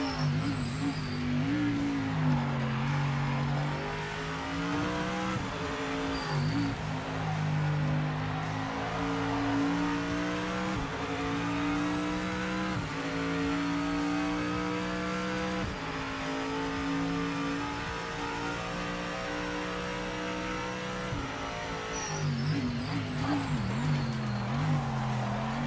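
An AMG race car in the video game Project Motor Racing holds a steady, loud engine drone throughout, its pitch climbing and dropping through repeated gear changes with brief lifts, like hard laps near the limiter.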